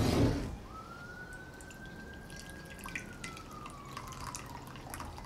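Tea pours from a Japanese teapot at Tokoname into a cup as a thin, quiet trickle, the stream's pitch rising steadily as the cup fills, with faint drips near the end.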